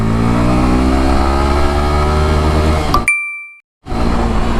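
A Yamaha FZ S motorcycle pulls hard through second gear, its engine note rising loudly and close, then cutting off abruptly into a short silence marked by a faint ding before the engine returns.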